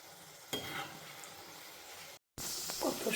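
Luchi deep frying and puffing up in hot oil: a steady, soft sizzle, a brief silent break, then a louder, busier bubbling hiss.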